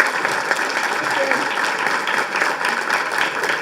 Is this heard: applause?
yes